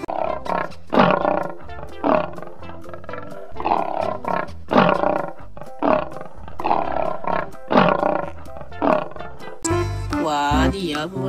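A lion roars in the video game Jurassic World Evolution 2, giving several loud, rumbling calls in a rhythmic series with no talk over them.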